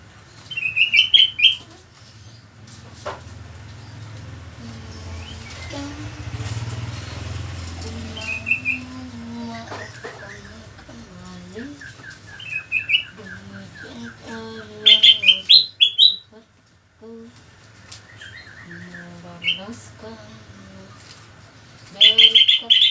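A sooty-headed bulbul sings near the microphone, giving short bright chirps and whistled phrases in bursts. The calls are spread over a steady low background hum, with fainter warbling between them.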